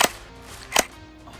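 A gel blaster fires two sharp, close pops, one at the very start and another just under a second later, each snapping short and loud before quickly fading.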